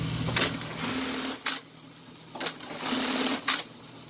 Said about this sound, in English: right now we demonstrate the machine to you sewing a three quarter